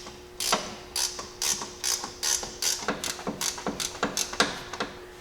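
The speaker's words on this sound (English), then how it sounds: "I'll tighten up the bolts that go to our sway bar link." A ratchet tightens sway bar link and suspension bolts on a Jeep Cherokee XJ, giving a quick, close run of clicking strokes in a steady rhythm with a faint constant hum behind it.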